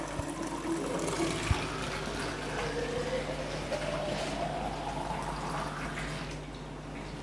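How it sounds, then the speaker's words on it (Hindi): RO (reverse osmosis) water runs from a tap in a steady, continuous stream for several seconds, with no talking over it. "ये आरओ का पानी आ रहा है इस टैप में"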